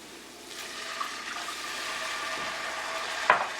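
Water pours steadily into a pot of curry eggs, a soft continuous rushing splash that ends with a brief knock.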